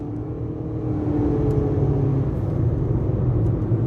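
A 2020 Mitsubishi Outlander engine drones steadily under acceleration from inside the cabin, a low rumble that rises gradually in pitch as the transmission holds the revs.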